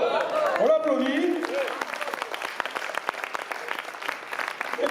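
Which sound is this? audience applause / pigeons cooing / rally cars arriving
audience applause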